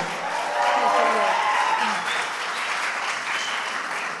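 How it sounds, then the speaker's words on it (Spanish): Steady applause from a crowd at a citizens' debate final, sustained clapping at a fairly loud level throughout, with a few voices briefly audible beneath it. "Recibamos con un fuerte aplauso a Renata del Castillo, Luis Enrique Palomino"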